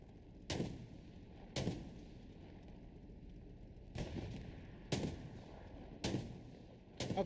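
Gunfire and explosions in the video game Hell Let Loose: six sharp, booming blasts land at irregular intervals, each decaying into a rumbling tail over a quiet background.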